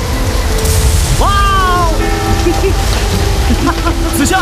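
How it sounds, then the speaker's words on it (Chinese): Steady rain pours outdoors in a period drama scene, a dense constant hiss throughout, while a voice briefly rises over it partway through. "哦，下雨了，冒泡了"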